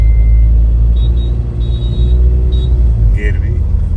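Rough, vibrating engine of a Tata diesel SUV running with poor power, a steady loud low rumble throughout with faint tonal whine, heard up close from inside the vehicle.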